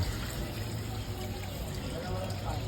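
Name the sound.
water poured into cooking pot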